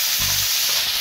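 Drumstick leaves dropped into hot spiced oil in a pan, a loud, close, continuous sizzle and frying hiss with a short low thud as they land, no talking.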